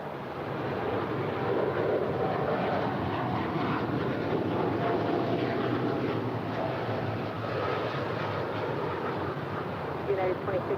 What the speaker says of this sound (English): This is United 2614 headed to Newark. The 787-10 Dreamliner